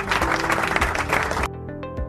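Classroom applause for a pupil's correct answer, a dense burst of clapping lasting about a second and a half before it cuts off, leaving faint background tones.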